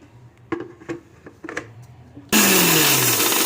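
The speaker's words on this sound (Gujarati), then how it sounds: "આ વરિયારી પણ એમને મિક્સરમાં ઉમેરી છે આને ક્રશ કરી લઈશું હવે" A kitchen mixer grinder crushes fennel seeds for an instant red chilli pickle. A few soft clicks and taps come first, then the motor bursts into a loud, steady, high whir that runs to the end.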